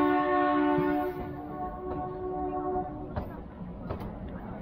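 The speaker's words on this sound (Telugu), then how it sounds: "ఇది భయ షిమ్లా రైల్వే స్టేషన్." At Shimla railway station on the Kalka–Shimla toy train line, a loud, sustained horn blares for about two seconds, then gives way to station rumble and scattered clanks, with a voice faintly present.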